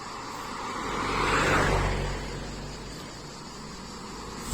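A single car passes on a road beside lake gardens, its engine and tyre noise swelling as it approaches then fading away, heard alone against a steady roadside hum.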